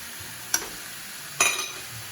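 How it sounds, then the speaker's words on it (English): Beef mince browns gently in a non-stick wok, a quiet low sizzle broken by two brief scraping stirs from a masher, the second longer and louder. "We just want to take the edge off it, just start to brown the mince."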